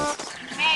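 A flock of goats bleats in a cartoon scene, with dense overlapping cries that fill the whole moment without a break and rise slightly toward the end.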